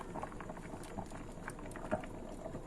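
Harisa, a wheat and chicken porridge, boils actively in a pot, giving a steady, close, low bubbling and popping with faint sputters and no talk.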